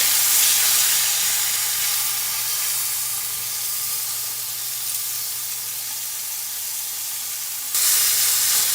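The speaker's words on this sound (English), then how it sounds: "you're going to get some splatter. It's going to happen because you're cooking a little high heat just to get that good sear" Basted pork chops sear in a pan over high heat, a loud continuous sizzle with spattering hiss that eases slightly midway and then swells again near the end, with no talking.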